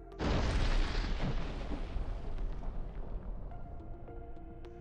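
A large explosion destroys a fortified stronghold in a house near Toretsk: a loud, broad blast opening the clip, then a long rumbling roar that slowly decays over several seconds, with no voices.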